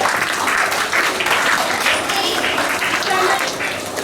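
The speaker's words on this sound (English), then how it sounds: "Round of applause for our talented performance." A school assembly audience of a Class 3 B Kargil Vijay Diwas program gives a round of applause after a student performance, with continuous, loud clapping from many hands filling the room for a few seconds.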